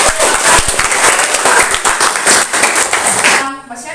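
Students clap together in a classroom, a loud burst of brisk, close applause that fades out near the end as a voice starts to speak.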